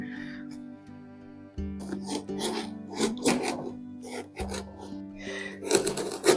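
A pumpkin being carved out with a knife or scraper, rough rasping and scraping strokes in close bursts over a steady background music bed.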